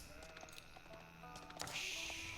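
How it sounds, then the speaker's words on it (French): Sheep bleating in a strategy video game, several short faint calls scattered over quiet in-game ambience, with a brighter burst of game sound near the end. "le bleu vient de prendre tous les moutons"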